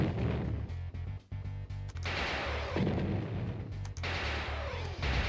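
Torpedo launches in the Bodyworks Voyager video game, a series of heavy booming bursts that arrive in rapid succession over a pulsing electronic game soundtrack, loud and close, with brief gaps between salvos.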